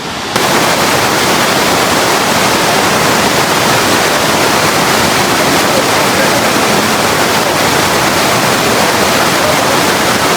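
Loud, steady roar of a waterfall swollen by rain, dense broadband rushing water filling the whole clip without a break, close by and alone.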